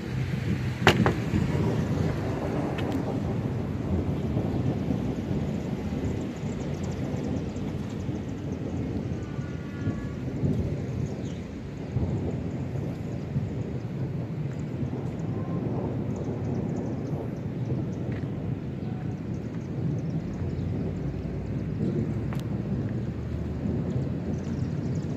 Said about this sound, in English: We are under a severe thunderstorm warning.